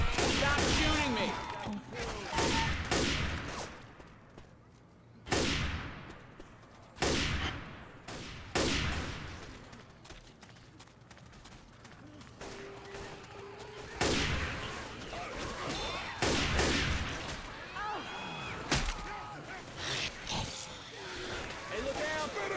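Gunfire in the zombie shooter Left 4 Dead 2, with sharp loud bursts and shots scattered through the scene under and between frequent talk from several players.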